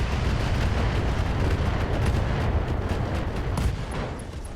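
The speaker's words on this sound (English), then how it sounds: "Ammo explosion into kill." Ammo explosion destroying a mech in the RogueTech BattleTech video game, a loud, sustained roaring blast with dense crackling rumble filling the whole moment, heard alone without talk.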